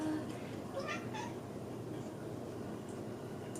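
A pet cat meows a few times, faint and somewhat distant, over a steady low room hum in an indoor podcast setting.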